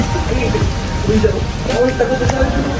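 Rain falling in warm weather, a continuous close patter mixed with scattered clatter and background voices.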